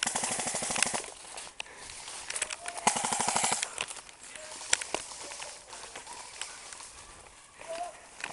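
Airsoft guns fire in rapid bursts and single cracks during a Saturday airsoft match outdoors, with players shouting and talking throughout over rustling movement.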